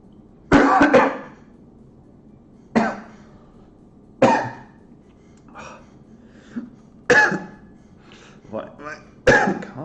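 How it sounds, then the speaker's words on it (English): A person coughs repeatedly, several harsh bursts spaced a second or two apart, with some throat clearing and brief murmurs in between, close to the microphone. "Why am I coughing so much?"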